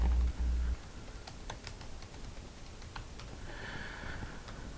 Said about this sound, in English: I'm gonna type that in right here